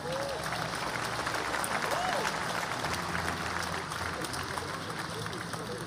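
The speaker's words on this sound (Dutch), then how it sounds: "Ook voor hen een groot applaus." Crowd applause at a national commemoration ceremony, a steady distant wash of clapping under a constant background hum, with faint voices and brief tonal sounds mixed in.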